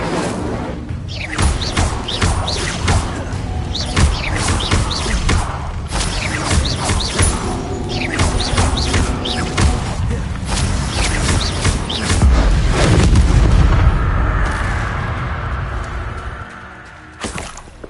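Incendio fire spell cast in the Hogwarts video game, a run of whooshing magical bursts and thuds with a loud roaring swell of flame near the end before it dies away.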